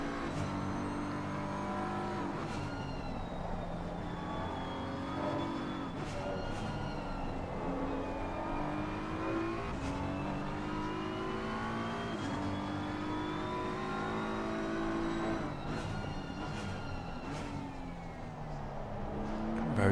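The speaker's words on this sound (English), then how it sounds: "Listen to the upshift." A race car engine in a sim racing game at Suzuka howls through the revs and upshifts repeatedly, pitch climbing then dropping at each gear change, sustained and fairly close, with faint talk underneath.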